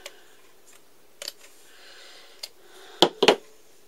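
Scissors snip paper into little strips for an altered craft bag, a few short, sharp cuts clustered near the end after sparse faint clicks, close by with no talking.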